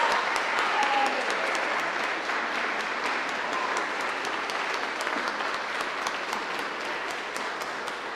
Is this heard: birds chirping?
no